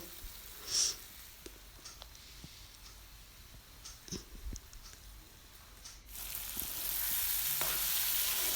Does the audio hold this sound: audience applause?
no